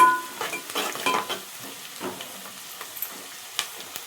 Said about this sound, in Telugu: చూడండి, మంచిగా వేగుతున్నాయి కదా. ఇంకా కూడా వేగాలి